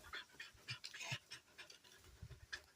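A dog, apparently a hunting dog in a rural outdoor setting, pants in quick, rhythmic breaths, faint and fairly close, with a few short louder bursts and no talk over it.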